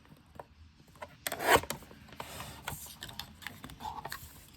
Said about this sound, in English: So trim it down just a bit by 1/8 of an inch.